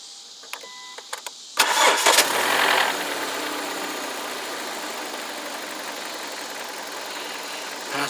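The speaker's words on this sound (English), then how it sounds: "do a starter test" A car engine cranks with the starter and catches during a starter test, a sharp burst of starting noise followed by a steady, fairly loud idle that runs on to the end, with a few light clicks before it.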